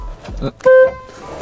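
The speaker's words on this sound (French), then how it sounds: "attends, klaxon" A single loud car horn honk sounds up close for a moment on a drive to a mountain lake, with voices talking just before and after.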